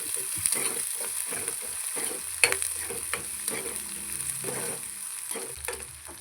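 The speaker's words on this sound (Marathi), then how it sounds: "कांदा लाल होईपर्यंत भाजून घ्यायचा" Chopped onion with green chilies frying and being stirred in a pan for upma, a steady soft sizzle broken by scraping spatula strokes and a sharper knock, close and alone.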